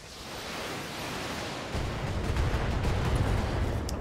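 Mech weapons firing in the Battletech video game come through as a sustained roaring, hissing barrage that grows heavier and louder partway through, with a dense low rumble underneath.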